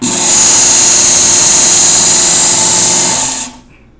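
A Work Sharp Ken Onion MK2 sharpener runs its leather belt while a knife is honed against it, giving a loud, steady motorized whine and hiss close by that cuts off abruptly near the end.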